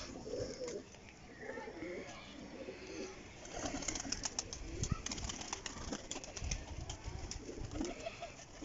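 Many pigeons coo together in a continuous low murmur, with occasional wing flaps and faint voices around them.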